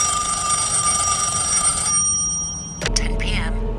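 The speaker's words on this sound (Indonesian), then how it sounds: "percakapan terhenti saat telepon berdering" A telephone bell rings loudly in a steady trill for about two seconds, then stops as a voice takes over, close and clear.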